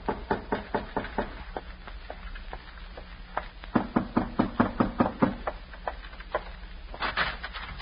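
Knocks on a front door in an old-time radio crime drama come as a long run of firm, evenly spaced raps, pausing briefly and then knocking again, close and clear with no talk.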